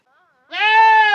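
A small goat lets out a single loud, close bleat, a sustained wavering cry after a brief faint sound.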